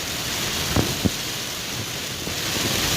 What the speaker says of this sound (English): Here we go with the